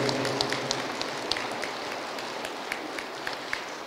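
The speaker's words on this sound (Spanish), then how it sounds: "Fuertes aplausos." Applause from a lecture audience at a university, a steady dense patter of clapping with a few sharper individual claps standing out, moderately distant and fairly faint.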